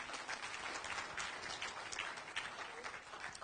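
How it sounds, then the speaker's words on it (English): An audience at a talk on success and entrepreneurship claps in a dense, steady patter, fairly faint and distant, lasting the full few seconds without a clear fade. "Clap if you understand this"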